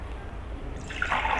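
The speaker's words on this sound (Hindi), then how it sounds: "मैं थोड़ा सा और भर देती हूँ इसमें पानी" Water pours steadily into a bottle, a bright splashing trickle that starts partway through and continues to the end, close and fairly quiet.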